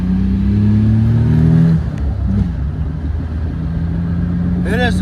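A very powerful car pulls onto a main road, its engine note rising in a loud, sustained rev that drops off sharply, then settles into a steady drone with a brief squeal near the end.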